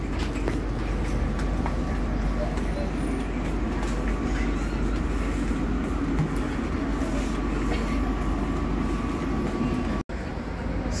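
Passenger train running on the Cicalengka to Bandung line, a steady loud rumble of wheels and carriage noise heard from inside, continuous with a brief dropout near the end.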